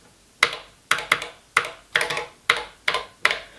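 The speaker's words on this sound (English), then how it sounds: "I'd just like you to hear the sound this keyboard makes." Keys on a Televideo Model 950 computer terminal keyboard are struck one at a time at an even pace, about eight crisp, close-up taps with no talking.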